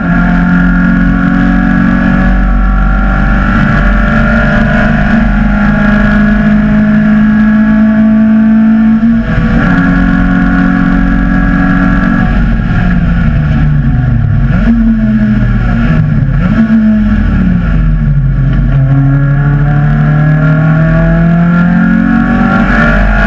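MG race cars racing at The Bend Motorsport Park, with loud continuous engine roar throughout, pitch rising and falling through gear changes and braking, close and sustained.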